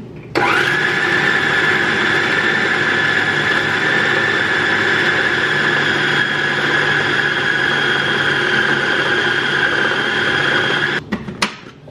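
An electric grinder grinds meat with a loud, steady motor whine that runs continuously for about ten seconds, then cuts off with a few brief rattles at the end.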